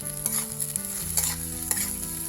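Mixed vegetables, including carrots, beans and peas, fry in a pan for a vegetable chop filling, with a steady close sizzle and brisk stirring scrapes throughout and no talking.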